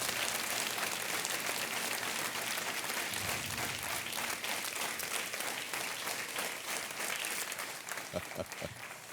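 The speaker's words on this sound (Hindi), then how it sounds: "और तालियां बजती रहनी चाहिए।" A studio audience on the KBC quiz show claps continuously, a dense, steady wash of applause that holds its level throughout and thins slightly near the end.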